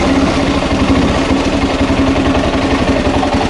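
A Honda XR600R motorcycle engine runs steadily close by, a loud, continuous throbbing idle with an even low pulse and no speech over it.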